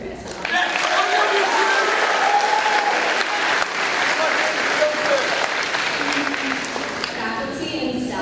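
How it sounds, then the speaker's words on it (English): Sustained audience applause at a school farewell speech in a hall, dense and steady clapping filling the room for about eight seconds, with some voices in the crowd underneath. "Another round of applause for Chris."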